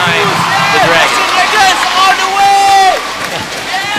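Home crowd at a professional ABL basketball game between the Westports Malaysia Dragons and Indonesia Warriors, a loud steady roar of cheering filling the arena, with shoe squeaks and play sounds cutting through the noise.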